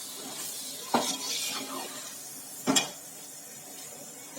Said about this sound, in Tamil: இந்த மாதிரி தக்காளியை நல்லா வதக்கிக்கணும்.